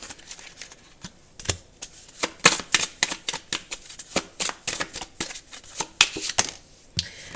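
Tarot cards being shuffled and drawn from several decks, with repeated soft riffling and flicking bursts in an irregular rhythm, close and fairly quiet.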